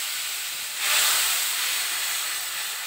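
Spice paste of ginger, green chilli, turmeric, cumin, Kashmiri red chilli powder and salt hits hot oil, giving a loud, steady hiss that swells briefly and then holds, with no voices.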